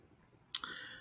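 A single sharp computer mouse click, crisp and close, standing alone against a quiet room background with a short ringing tail.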